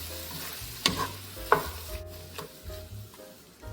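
Chopped onion and minced garlic cooking together in a pot, a soft sizzle under a couple of sharp stirring clacks and scrapes, close and fairly quiet with no talking.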